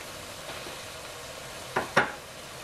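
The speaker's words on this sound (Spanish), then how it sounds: "Vamos a agregarle las papas." Potatoes drop into a simmering pot of tripe stew, making two quick clunks and splashes over a quiet background bubbling.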